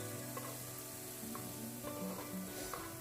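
Ripe tomatoes frying with chilli powder in a pan for a prawn masala, making a soft, steady sizzle with faint stirring scrapes and no voices.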